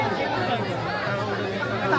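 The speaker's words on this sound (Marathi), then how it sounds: "गर्दी बघा अजून चालूच आहे." Steady crowd chatter fills a busy Ekvira Devi temple on a Sunday holiday, many overlapping voices close and continuous with no single speaker standing out.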